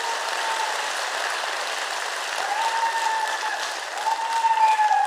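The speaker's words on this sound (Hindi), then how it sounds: "जोरदार तालियां अपने लिए बजा दो" Steady applause from an audience at a motivational talk, a dense wash of clapping that swells slightly toward the end, with no speech over it.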